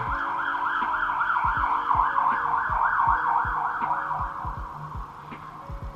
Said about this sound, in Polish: O, słyszycie? Jedzie karetka.